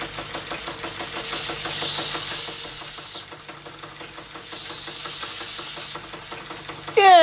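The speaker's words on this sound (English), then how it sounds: "See if the whistle works." A vintage Bing-Wolf model steam engine sounds its small whistle in two sustained high hissing blasts of about a second and a half each, over the engine's steady rhythmic chugging, with a brief voice at the very end.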